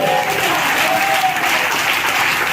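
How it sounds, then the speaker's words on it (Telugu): A church congregation clapping loudly together, a dense continuous wall of hand claps close and strong from start to finish. "clap loudly"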